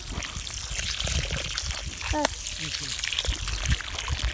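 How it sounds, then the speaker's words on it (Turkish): Water poured by hand onto newly planted watermelon seedlings in a field, a brief trickling splash near the middle, faint beneath outdoor background noise and nearby voices. "hemen peşinden can suyunu veriyoruz"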